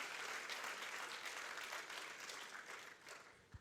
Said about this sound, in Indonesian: Tepuk tangan yang meriah bagi Kristus Yesus Tuhan.